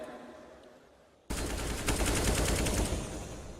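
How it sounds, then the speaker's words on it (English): Counter-Strike gunfire fired through a wall on a competitive map: after a quiet, ambient lead-in, a sudden loud stream of rapid automatic shots starts and carries on to the end. "Snacks tries for the new existing wall bang."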